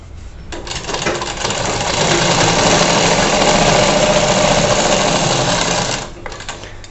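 A sewing machine stitches a blouse in one steady, close, loud run of motor whir and needle chatter lasting several seconds, with no talking.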